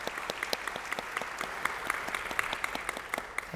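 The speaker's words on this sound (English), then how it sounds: "Give yourselves a round of applause, Cathedral of Hope." A church congregation applauds during a Sunday service celebration, a steady dense patter of many hands clapping, fairly close and sustained.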